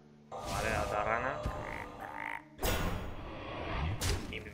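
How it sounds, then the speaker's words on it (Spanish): Frog card croaking in the Hearthstone card game, a loud, full croak sounding twice, each call lasting about two seconds, with no talk over it. "Vale, la otra rana."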